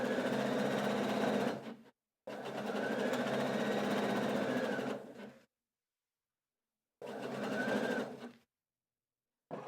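A Husqvarna Viking sewing machine with a gathering foot stitches fabric in three steady, whirring runs of a few seconds each, separated by silent pauses.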